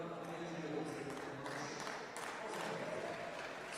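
Audience applause at a cesta punta match in a fronton: steady, fairly faint clapping from the crowd in the stands, continuous throughout with a broad hiss-like texture and no clear individual claps.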